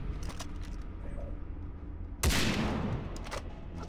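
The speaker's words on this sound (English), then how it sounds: "He doesn't even react when I shoot him." Gunfire from the video game Far Cry 3: Blood Dragon, a sudden loud burst of shots midway that rings on briefly over a steady game background.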